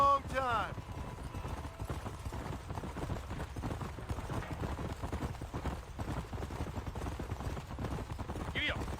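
Steady hoofbeats of a horse galloping through the game Red Dead Redemption, a continuous clip-clop rhythm running the whole time beneath character dialogue and a brief whinny near the start.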